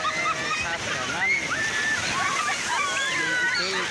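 Water sloshes and splashes steadily, close by, at Sadranan beach in Gunung Kidul, Yogyakarta, mixed with high, busy voices throughout.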